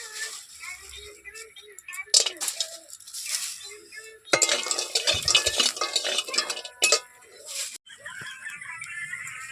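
Lentil dumplings (biulir dal bori) frying in oil in a wok, with clinking and scraping of a spatula stirring against the pan in irregular bursts over a steady sizzle.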